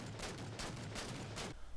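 DMR rifle fire in Halo 4, five evenly spaced sharp shots in quick succession, fairly faint, followed by a brief quiet tail.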